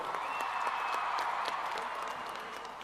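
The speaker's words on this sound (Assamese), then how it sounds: "আমাৰ বিহুৱা বিহুৱতীসকলৰ কাৰণে এটা ডাঙৰ হাত চাপৰি" Audience applause for Bihu dancers at an outdoor Assamese Bihu world-record event, a dense steady wash of many hands clapping that holds for about three seconds before easing slightly toward the end.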